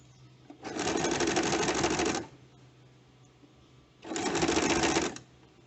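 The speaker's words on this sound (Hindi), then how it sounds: "इसको घुमाते रहिए मशीन को, उसके साथ साथ रोटेट करिए और इसको सिलते जाइए।" A sewing machine stitches a neckline in two close bursts of rapid, even mechanical chatter, the first about one and a half seconds long and the second about one second, separated by a quiet pause.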